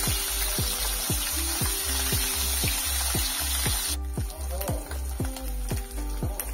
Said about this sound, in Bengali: খুন্তি দিয়ে আমি উল্টে পাল্টে খুব সুন্দর করে লাল লাল করে ভেজে নিচ্ছি